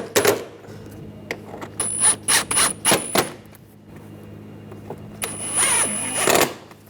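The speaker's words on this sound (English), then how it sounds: "Now I'll put the screws in." Screws being driven into a front bumper cover on a 2010-2014 Volkswagen GTI, heard as several short bursts of a power driver whirring with clicks and handling noises between them.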